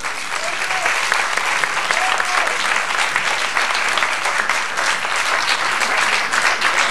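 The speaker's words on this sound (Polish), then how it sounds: "Brawa." Sustained audience applause fills a hall during an award ceremony at a theatre festival, dense steady clapping for the full length with a few voices mixed in.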